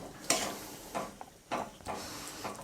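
A khoa and milk mixture for santra barfi is stirred in a pan, with short scraping strokes in an uneven rhythm over a faint sizzle, close and alone.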